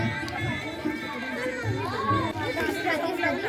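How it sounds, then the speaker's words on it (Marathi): Many women chat and laugh together at a haldi-kumkum gathering, with overlapping voices and bursts of giggling forming a lively, close, continuous hubbub. "सगळ्या बायकांचं हसणं खिदळणं गप्पा याच्यामुळं वातावरण एकदम प्रसन्न झालं"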